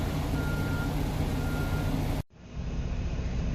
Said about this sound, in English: Gonna enjoy my truck idling.